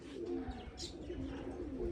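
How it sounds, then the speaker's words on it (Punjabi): Soft, low cooing of pigeons, birds being treated for paralysis, drifts along steadily over a quiet outdoor background, with a faint chirp and a brief knock at the end. "ਲੋ ਵੀ ਕਬੂਤਰ ਕੱਢ ਦਿੱਤੇ"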